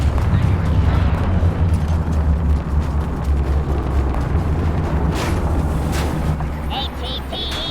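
An AT-TE walker is destroyed in the Star Wars Battlefront II video game, a heavy explosive rumble rolling through a loud, continuous din of battle, with brief sharper noises near the end.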